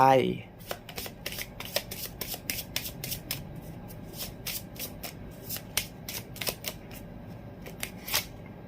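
Tarot cards being shuffled by hand in quick, crisp riffling flicks, repeated steadily over a low room hum with a soft murmur in the background.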